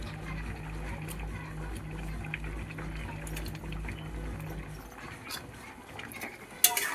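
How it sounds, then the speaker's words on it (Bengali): A pot of water on the stove bubbles at a rolling boil before chicken goes in, with a steady low hum beneath that fades out midway, leaving a softer simmering hiss and a brief clink near the end. "তো এটা এখন 2-5 মিনিট ফুটবে, তারপর মাংস দেবো।"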